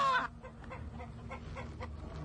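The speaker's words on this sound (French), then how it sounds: "J'ai mon coq là qui est prêt." A rooster clucks in a few soft, short bursts, a quiet, fairly close rhythm of low calls after a brief higher note at the start.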